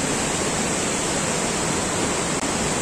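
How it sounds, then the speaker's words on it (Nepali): Gaighat waterfall roars as a steady, loud broadband rush of falling water, close by and continuous, with no voices over it. "झरना हो।"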